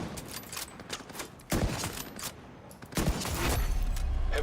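Bursts of gunfire ring out in The Division during a PvE fight, coming as clustered volleys of sharp cracks with a heavy burst at about the midpoint and a sustained stretch of rapid fire at the end.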